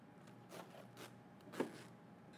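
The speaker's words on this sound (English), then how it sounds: "now we can close our zipper" Zipper being closed on handmade tracksuit leggings during sewing, a few soft brief zipping strokes, quiet and close, with faint rustling of fabric.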